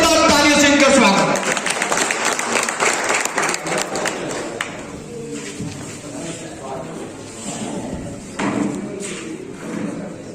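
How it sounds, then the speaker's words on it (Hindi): A crowd at an Eastern India powerlifting championship prize ceremony claps to welcome MLA Dhullu Mahto onto the stage, with steady applause continuing under an announcer's amplified voice that fades as the clapping carries on. "श्री ढुल्लू महतो, जोरदार तालियों से इनका स्वागत।"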